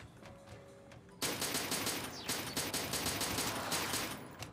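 Submachine gun fire in the shooter Interstellar Marines erupts after a quiet stretch as a loud, continuous rapid burst of close shots that keeps rattling steadily to the end.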